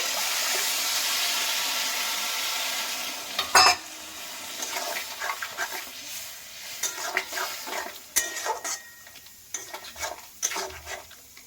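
Water poured into a pan of okra cooking with mustard and sesame paste, then steady stirring and scraping with soft sizzling and a few sharper clinks against the pan, with no one talking.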